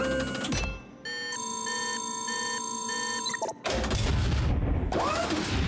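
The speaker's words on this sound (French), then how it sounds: "Nous allons utiliser cette machine à copier." A cartoon copying machine whirs and chimes with a steady mechanical hum and a repeating bell-like pattern, ending in an abrupt clunk and a burst of noisy rumble, loud and without speech.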